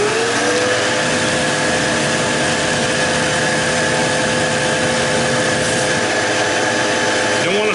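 A vacuum cleaner draws air out of a bag of stored dry beans, giving a loud, steady, continuous whining roar with a constant hum throughout and no pauses.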